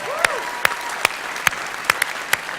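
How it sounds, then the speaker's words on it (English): Audience applause at the HighTech XL event in 2017, a steady wash of clapping with several sharp, regularly spaced clicking strikes standing out above it. "One more applause, please."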